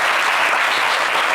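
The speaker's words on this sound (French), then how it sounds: "On applaudit les 4 candidats qualifiés" On a French TV game show, the studio audience gives dense, sustained applause for the four qualified contestants. The clapping is steady and loud throughout, with no speech.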